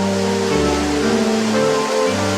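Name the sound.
Sajla waterfall, water stream flowing down a slope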